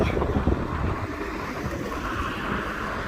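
Cold wind rushes across the microphone while riding a bicycle outdoors, a steady loud buffeting roar with gusty low rumbles and no talking.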